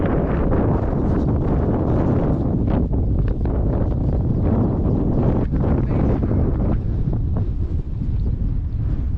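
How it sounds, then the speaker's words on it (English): Strong wind buffeting the microphone on a hilltop near Dolgellau in Wales, a loud, continuous low rumble that roars and gusts without pause, close and unbroken by speech. "as you can hear, it's windier up here"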